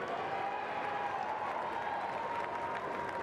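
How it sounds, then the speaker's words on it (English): A large crowd applauds at a state high school football championship, a steady, distant wash of clapping with a faint sustained tone running through it. "let's give one more round of applause"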